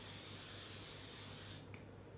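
Soopro Seal It makeup finishing spray being sprayed, a single close, loud, airy hiss lasting about a second and a half before cutting off sharply into quiet.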